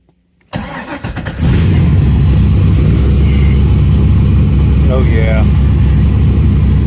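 A car engine cranks briefly, catches and settles into a steady, loud idle that runs on without break, with a voice briefly heard over it.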